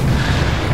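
A grenadier's grenade bag explodes in The Division, a loud, dense burst of rumbling blast noise that fills the whole short moment.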